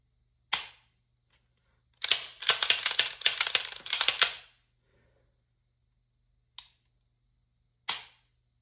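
A gun trigger being dry-fired indoors: sharp isolated metallic clicks, one early, a rapid clattering burst of many clicks in the middle, then two single clicks spaced apart near the end, all close and dry.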